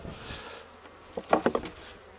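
Honeybees buzz around hive frames during a colony inspection, a faint hum with a brief flurry of sharper buzzes near the end.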